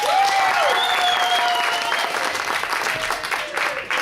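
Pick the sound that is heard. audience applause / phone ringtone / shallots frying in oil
audience applause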